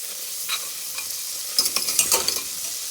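Steamed vegetables sizzle in garlic butter in a pot, a soft crackle broken by a cluster of sharper spatters and scraping stirs near the end; no one talks.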